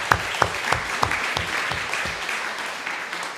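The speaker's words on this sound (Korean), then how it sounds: "자, 미루도 박수." A church congregation claps in a brief burst of distinct, fairly regular hand claps that soon blur into softer, scattered clapping and fade.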